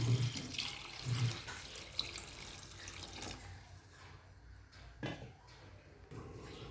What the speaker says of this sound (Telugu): చింతపండు వాటర్ అయితే వేస్తున్నాను.